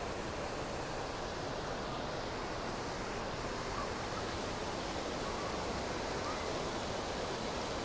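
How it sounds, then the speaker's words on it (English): A steady, dense roar of rushing water from Bekhal Waterfall in Iraqi Kurdistan, constant and loud throughout with no pauses. "And this behind me is Behal Waterfall."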